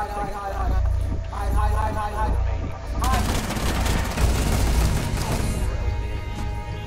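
Gunshots in Rainbow Six Siege, repeated sharp reports, then a dense burst of rapid fire from about three seconds on, loud and close.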